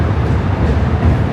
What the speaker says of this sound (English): this bridge is shaking when that train goes over